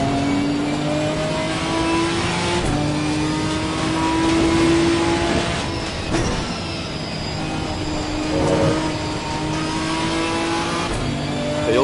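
A Ginetta GT4 race car engine in Assetto Corsa Competizione revs and shifts repeatedly, its rising whine climbing through gears with brief dips at each change, loud and close for about twelve seconds.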